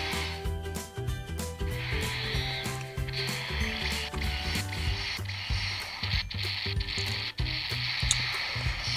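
Special attack effects from Dragon Ball Z Dokkan Battle, a dense layered burst of game sounds with rapid rhythmic blasts, bright whooshes and pulsing tones, moderately loud and without speech.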